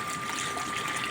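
Steady rushing water pours continuously from a motor pump pipe, through a cloth filter, filling a swimming pool, a constant hissing gush with no pauses and no voices.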